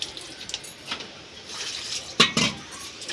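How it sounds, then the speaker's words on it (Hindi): Potatoes being rinsed in water in a home kitchen, with a few soft splashes and sloshing bursts, the clearest pair near the end, over quiet background. "आलू भी धो रहे हैं"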